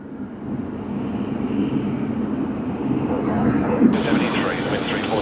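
A Singapore Airlines Boeing 777-300 jet at Sydney Airport produces a steady broadband engine roar that slowly swells louder and brightens toward the end, with no voices over it.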